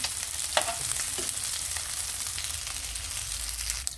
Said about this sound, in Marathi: ओके मुगे लेपो फ्राय जाल्यो